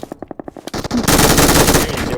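Machine gun fire in a video game: a run of evenly spaced shots gives way to a loud, sustained burst of rapid automatic fire close up.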